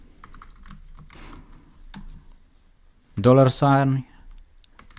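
Light keystrokes patter on a computer keyboard as code is typed, quiet and scattered, with someone speaking briefly over the clicks near the end.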